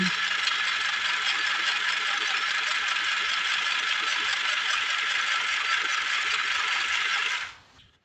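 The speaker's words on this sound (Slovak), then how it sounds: "zdvihnem pätku dole a zatlačením na gombík môžem šiť" A battery-powered mini sewing machine running on four AA cells, stitching fabric with a fast, steady mechanical whirring rattle that holds for about seven seconds, close and loud, then winds down to silence.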